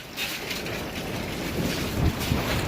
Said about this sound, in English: As you can hear, it's very windy today.